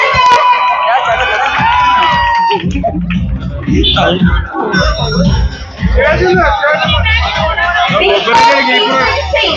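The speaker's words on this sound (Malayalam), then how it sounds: "ഈ കയ്യടി ഒന്നും പോരാ, വലിയൊരു കയ്യടി" A large, packed crowd of fans in Palakkad welcoming Gabri and Jasmine roars with loud cheering, whoops and shouting. The excited voices are close and continuous, with a brief dip in the middle.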